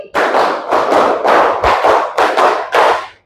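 Children in a classroom clapping hands in a rhythm game, a series of loud, close bursts of claps grouped in quick beats with brief pauses between, no talking over them.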